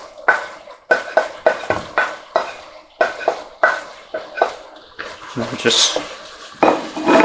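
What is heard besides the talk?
stirring onion, mushroom and garlic mixture in pan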